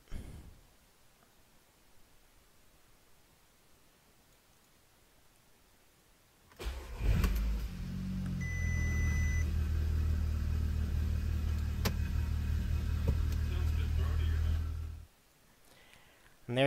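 A car engine starts after a DSG-to-manual gearbox swap and settles into a steady, moderately loud idle rumble inside a garage, running for several seconds before cutting off.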